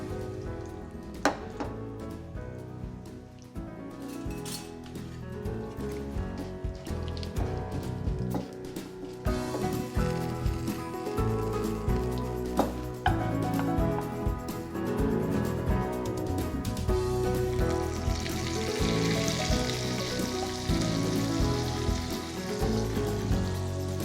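Cumin, mustard seeds, whole red chillies and curry leaves hitting hot oil for a dahi ka salan tempering, a bright crackling sizzle that starts after some clatter and swells louder, continuing to the end.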